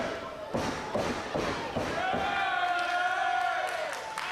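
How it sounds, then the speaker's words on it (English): A wrestler stomping his opponent in the ring, a series of heavy thuds on the mat followed by crowd noise, with a commentator talking over it. "Wyld now he just stomped Mendoza"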